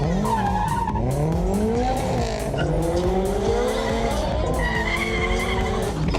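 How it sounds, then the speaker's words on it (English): Tires squeal continuously as a drift car skids at a car festival in Thailand, high sustained screeching over a loud revving engine, lasting the whole stretch without pause. "The drift car can barely keep it straight."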